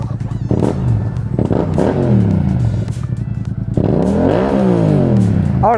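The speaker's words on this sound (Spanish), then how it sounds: "Ahora escuchen cómo suena esta moto." A Yamaha motorcycle, either the MT-07 or the XSR700, is revved hard several times, each rise and fall in engine pitch loud and near, ending in a rough, crackling idle.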